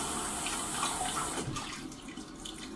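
A towel soaked in hot water is wrung out over a sink, water splashing and pouring down steadily at first, then thinning into lighter trickles and drips.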